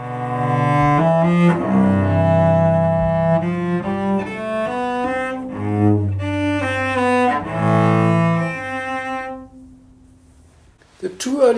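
A solo cello plays a slow passage from the Sarabande of Bach's Cello Suite No. 1 in the Kellner manuscript version, with sustained, resonant bowed notes that move stepwise, ending with a short noise.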